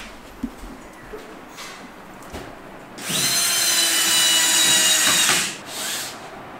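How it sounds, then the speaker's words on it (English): A power drill runs nearby in a steady loud burst of about two and a half seconds, then winds down, with quieter outdoor background before and after. "The guy's drilling."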